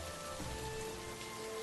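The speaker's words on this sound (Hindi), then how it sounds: "बारिश और तेज हो गई" Heavy rain falling, a steady dense hiss of drops spread evenly throughout, faint and distant with a soft low tone beneath.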